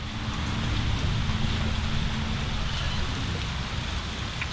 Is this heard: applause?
no